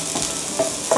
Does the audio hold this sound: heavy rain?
no